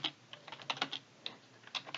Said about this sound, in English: I'm just going to type my name, organization.